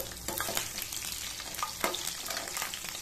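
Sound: sliced garlic frying in oil with dried red chillies

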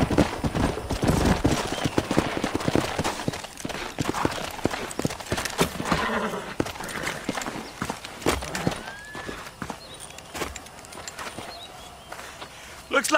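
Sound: horses' hooves clip-clopping in the video game Red Dead Redemption

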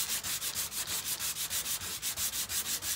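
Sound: hand sanding with 120 grit sandpaper

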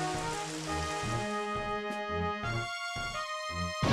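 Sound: heavy rain in video game Pokémon Stadium 2

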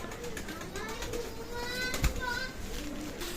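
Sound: pigeons at a pigeon sale

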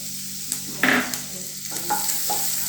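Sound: chopped garlic and chilli frying and stirred in hot oil

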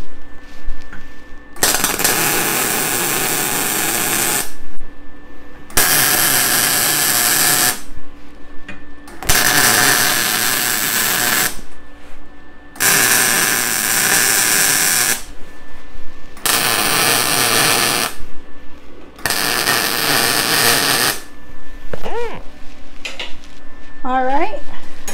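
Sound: welding a scrap horseshoe moose head sculpture

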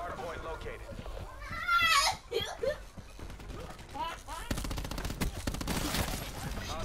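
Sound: gunfire in Dark Souls Remastered video game

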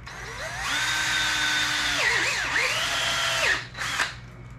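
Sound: drill drilling a hole through a PVC pipe coupler

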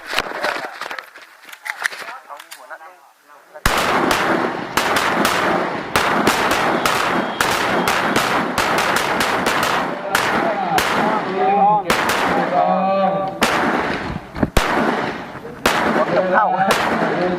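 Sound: gunfire at an annual shooting practice

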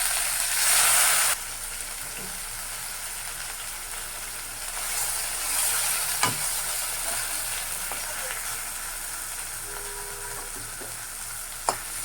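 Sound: frying chicken meat in pan

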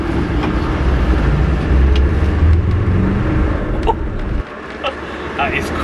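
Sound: remapped Land Rover Defender accelerating on the road

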